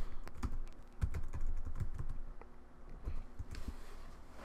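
Fingers tap on a computer keyboard while login credentials are entered for an Xfinity/Comcast router, a quick irregular run of close clicking keystrokes with no talking.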